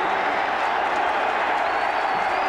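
Packed college football stadium crowd in Death Valley, Clemson, roars steadily as it rises to its feet during a 1995 game against North Carolina, a loud continuous wash of cheering and clapping.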